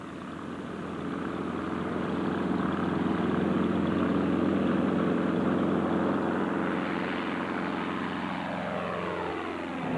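A propeller aircraft engine drones steadily and loudly nearby, then its pitch sweeps downward in the last few seconds as the engine note changes.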